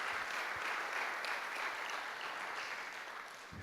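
Audience applause for a lifetime service award at a coaches' professional development gathering, a steady wash of clapping for a few seconds, moderately distant and fading slightly at the end.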